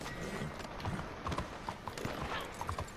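Horse hooves clip-clopping in Red Dead Redemption 2, a quick uneven run of soft thuds over a noisy game background, moderately near, with no talk.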